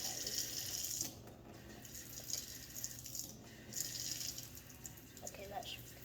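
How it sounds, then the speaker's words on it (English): A kitchen tap runs at a thin trickle into a garbage disposal sink, a faint steady splashing with a few rattles and clinks under brief talk. "So now we put it to a trickle."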